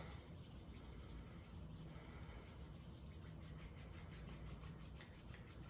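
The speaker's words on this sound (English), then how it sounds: "start to rub the hands together, creating heat in the palms" Hands rubbed briskly together to build heat during a yoga and acupressure routine for tired eyes, a continuous soft rasping friction sound, very quiet and close, with no pauses.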